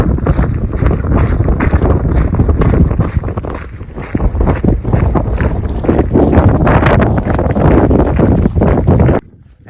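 Strong wind blowing across open desert terrain on the Continental Divide Trail near Lordsburg, a loud, steady roar and buffeting of gusts against the microphone that continues for nearly the whole stretch before cutting off abruptly.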